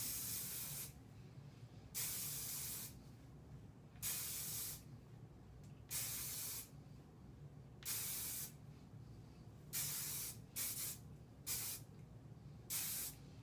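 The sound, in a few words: hairspray being sprayed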